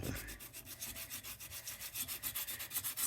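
Hand sanding of embossed paper: steady, close rasping strokes rubbing back and forth in an even rhythm, alone without any talk.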